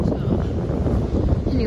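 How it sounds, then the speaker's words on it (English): Sideways wind gusts and rain batter a spring mountain stretch of the Appalachian Trail. A dense, loud, rushing roar with microphone buffeting fills the whole clip. "The wind was coming in sideways with the rain."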